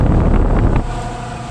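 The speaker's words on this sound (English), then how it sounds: "This one sounds horrible, the fan motor does." A 3-ton Carrier heat pump outdoor unit from 2014 runs with a rough, bad-sounding fan motor, giving a loud, steady broadband whir and rumble that drops slightly partway through.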